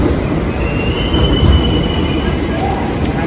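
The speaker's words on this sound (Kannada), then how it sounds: "so we were waiting for our train from burn railway station" A train rolls through Bern railway station in Switzerland, its wheels squealing in long high tones over a heavy low rumble and rattling carriages, loud and close.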